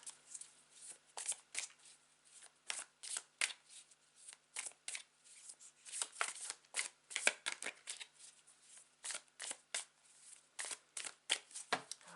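Tarot cards being shuffled over and over in quick papery bursts with short pauses between, close and fairly quiet.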